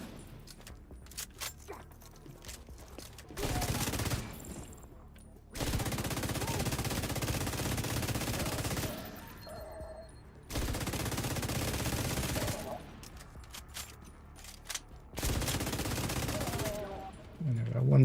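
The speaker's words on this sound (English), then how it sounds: "He didn't care that I was shooting him." Video game gunfire in long loud bursts of rapid automatic shots, several sustained volleys separated by quieter gaps, with a player talking between and over them.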